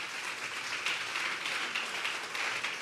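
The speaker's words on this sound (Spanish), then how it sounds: "Dale un fuerte aplauso pues al Señor esta tarde." A church congregation at a Sunday service claps together in a steady, dense applause, moderately distant and even throughout.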